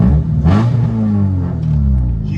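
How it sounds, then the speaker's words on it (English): A 1994 Honda Civic with a manual transmission idles: a steady, loud low engine rumble holding an even note throughout with no voices. "Look at that idle. No idle issues anymore."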